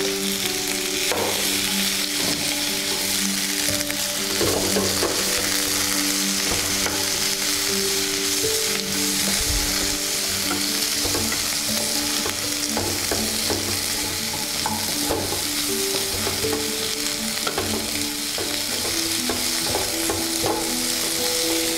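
Potatoes frying with ginger, green chili and turmeric in a pan for aloo and green pea chaat, a steady loud sizzle with scraping stir strokes and clinks running throughout, no talk.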